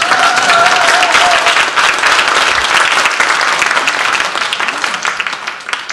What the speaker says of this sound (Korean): 박수 같은 거 하죠.